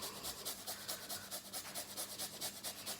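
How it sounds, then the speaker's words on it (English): Fresh ginger with its rind being rubbed against a grater, a quick rhythmic rasping of short strokes, soft and close with no talk. "So get all that rind off and grate that in as well."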